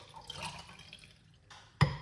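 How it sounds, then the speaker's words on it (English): Freshly made kiwi, cucumber, lemon, apple and ginger juice is poured into a glass, a soft liquid trickle and splash ending in a sharper clink and gurgle near the end, faint and close. "my beautiful healthy juice recipe this evening as I pour it out"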